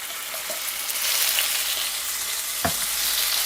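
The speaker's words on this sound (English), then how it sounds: "I'm going to add a little olive oil, and very, very quickly, I'm gonna add this garlic" Garlic sizzles in hot olive oil in a wok, a loud, close, continuous frying hiss that swells as it cooks, with a brief knock of a utensil against the pan; no talking.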